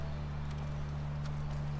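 Horse hooves clip-clop steadily in The Last of Us, a continuous moderate rhythm over a low constant hum of game ambience, with no speech.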